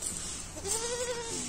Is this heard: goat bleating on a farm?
yes